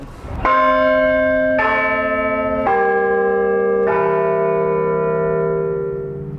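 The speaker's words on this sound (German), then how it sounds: "Statt eines einfachen Gongs erklingt zukünftig jede Viertelstunde eine Melodie." Church bells of the Wiesbaden Marktkirche ring a quarter-hour chime melody, four clear ringing strikes at steady intervals, each note lower than the last and sustaining with a long resonant hum.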